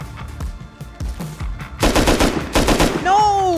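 Bursts of automatic gunfire in the video game Rust, sporadic shots early then a loud rapid volley, followed by a rising whistling tone at the end.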